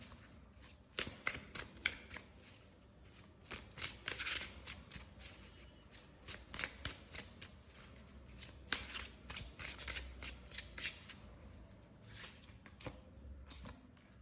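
Tarot cards shuffled by hand in a quiet room, a steady run of crisp riffling flutters and soft slaps that comes in bursts across the whole stretch, close up with no talking.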